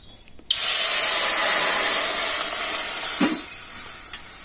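Water poured into a pot to start a sugar syrup for Dalia pakan pitha, a steady loud rushing hiss starting abruptly and running on to the end with a brief knock partway through.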